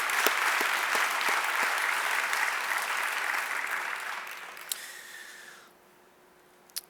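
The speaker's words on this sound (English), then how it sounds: "Let's give a round of applause to the county partners and to the providers" Conference audience at a substance use disorders plenary gives a sustained round of clapping for county partners and providers, fairly close and steady, gradually thinning out before ending in near silence with a stray bump.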